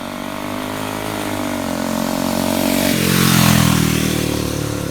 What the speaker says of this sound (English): if you listen closely in this video, you can hear the system shift